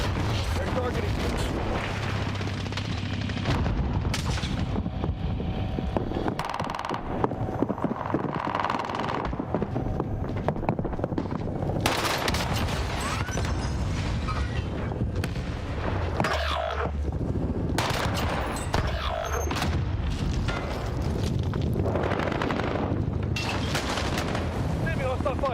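Dense gunfire and explosions from the battle royale video game Call of Duty Warzone, with repeated loud shots, bursts and booms throughout, mixed with game voices.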